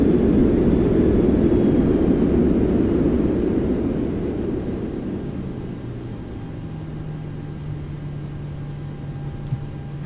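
Boeing 737-800 in a flight simulator slowing on its landing rollout under manual braking, a broad steady roar that fades gradually over several seconds to a quieter hum with a faint low whine.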